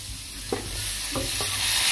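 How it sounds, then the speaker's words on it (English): Butter stirred in a hot pan, a steady close sizzle of melting fat with a few soft scrapes of the spoon against the pan, getting slightly louder toward the end. "Give it a little stir so that it melts quickly"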